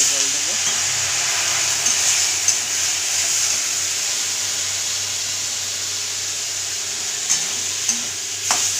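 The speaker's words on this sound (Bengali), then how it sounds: "এবার এর মধ্যে আমি অল্প করে জল দেবো।" Spices sizzle and hiss steadily in a frying pan after a little water is poured in, a loud continuous fry with faint stirring taps and a voice talking over it.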